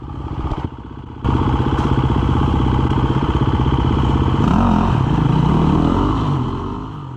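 A new KTM 350 dirt bike grinds through mud on a rough trail, its engine loud and close, droning and revving steadily after a brief dip near the start.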